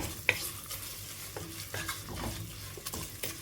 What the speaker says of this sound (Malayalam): ഈന്തപ്പഴത്തിൻ്റെ ഒപ്പം തന്നെ ഇട്ട് കൊടുക്കുക എന്നിട്ട് വീണ്ടും നന്നായി ഇളക്കി കൊടുക്കുക